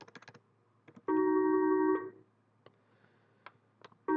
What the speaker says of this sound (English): someone's ringing the phone again